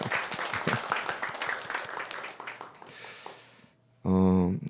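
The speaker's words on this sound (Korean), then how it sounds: "박수 한번 할까요?" A church congregation claps during a service, a dense burst of applause that thins out and fades, followed by a sustained tone and the start of talk.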